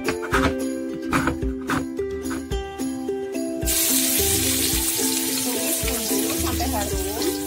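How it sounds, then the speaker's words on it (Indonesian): Ground spice paste sautéing in a pan for potato balado, with clinks and clatter of a spoon or spatula at first, then a loud, steady sizzle taking over as the paste hits the hot oil. "Tumis bumbu sampai harum."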